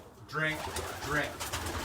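A racing pigeon coos in a loft, two soft throaty coo phrases close by against faint background noise.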